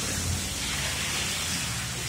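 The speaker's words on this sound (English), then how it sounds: "And now it's stopping, so the rain's stopping." Steady rain falling outdoors after a thunderstorm with wind, a dense continuous hiss filling the clip at even loudness, with no clear sign of it tapering off.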